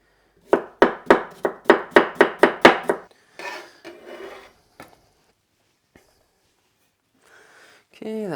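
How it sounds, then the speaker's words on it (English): A knife chops cucumber on a cutting board into cubes and slices, about a dozen quick rhythmic close strikes, then a few looser cuts and scraping before a brief pause. "just gonna cube these up. And these two I'll just cut into slices."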